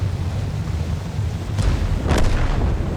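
Artillery fire in the tank battle game World of Tanks: a loud, deep booming blast over a constant low rumble, with a second burst following about half a second later.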